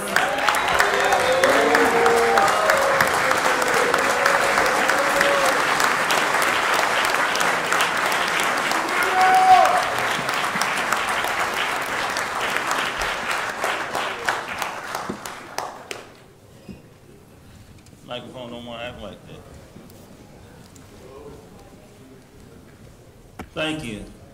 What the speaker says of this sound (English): can we please give a warm round of applause and stand to our seats, please, for Boo Williams.